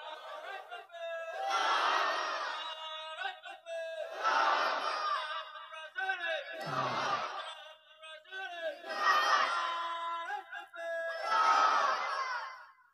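A large crowd roars the takbir chant back in unison at a religious sermon gathering, four or five loud, sustained shouted bursts repeating in a steady rhythm with short pauses between.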